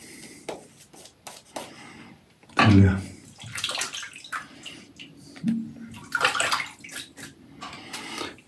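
Water runs and splashes for a few seconds amid rubbing and shuffling handling sounds, with soft speech-like sounds nearby.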